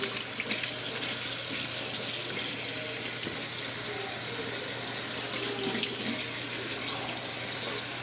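Tap water runs steadily into a sink as blue claw crabs are rinsed, making a constant close splashing rush with no pauses.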